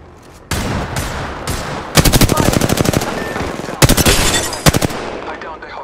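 Automatic weapon fire in the battle royale shooter Apex Legends, playing as Lifeline: sharp rapid bursts of shots in several volleys, loud and close, over a constant background of game noise.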